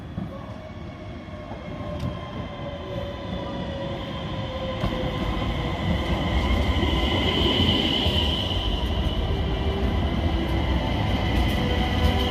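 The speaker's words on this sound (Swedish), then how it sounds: "Ända tills tåget mot Västerås rullade in på perrongen." A train bound for Västerås rolls into a station platform, a steady rumbling hum with faint high squeal tones growing gradually louder and closer over the whole stretch, no voices.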